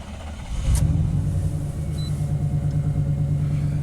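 A 1991 Chevy K1500 truck engine cranks briefly and catches, then settles into a steady, loud, close idle rumble with no talking.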